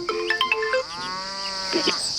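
A phone ringtone plays close by, a melodic electronic tune with a sustained warbling tone, loud and alone without talk.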